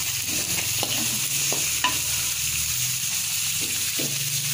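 Red and green chilies, sliced ginger and oncom dregs stir-fried in a pan, a steady close sizzle with repeated scraping and stirring strokes throughout, no talking.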